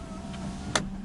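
Electric power window motor in a car running once in a short whir, close and fairly clear over a low steady cabin hum with the ignition on.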